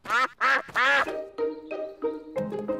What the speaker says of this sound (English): The ducks are swimming in their pond.